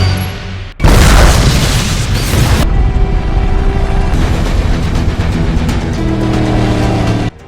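A bomb blast in a James Bond action scene goes off as a sudden loud boom, followed by a sustained roaring rumble of debris and engine noise that continues for several seconds before cutting off.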